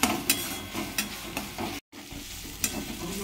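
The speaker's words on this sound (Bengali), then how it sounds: "এবারে এটা একটু ভালো করে ভেজে নিচ্ছি" Tomato with ginger-garlic paste fries in a pan, a steady sizzle broken by several scraping stirs of a spatula at close range, with a brief dropout midway.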